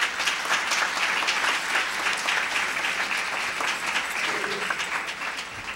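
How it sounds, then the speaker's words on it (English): At a history challenge bowl event, the audience applauds itself with a sustained, loud round of clapping, individual claps audible within the dense crowd sound, tapering slightly near the end. "Please give yourselves a round of applause."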